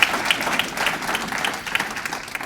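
Dense, continuous audience applause for staff at a city State of the Community address, many hands clapping together at an even, fairly loud level.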